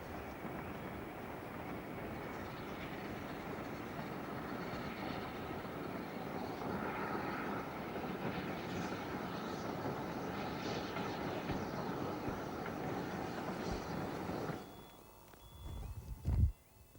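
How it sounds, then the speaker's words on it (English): A heritage train on the North Yorkshire Moors Railway rumbles steadily into a station by a road crossing, a long even roar with faint higher squeals, easing off near the end before a brief knock. "the barriers come down on the road crossing, marking the arrival of the train"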